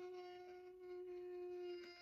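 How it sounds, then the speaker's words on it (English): A thin, steady squeak holds one pitch for about two seconds during paper water marbling, quiet and continuous with no talking. "Hear that squeak?"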